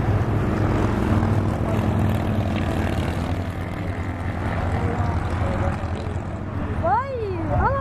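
An airliner from Azul's fleet passes by at an airport, a loud continuous engine roar with a rising whine near the end, heard under background chatter.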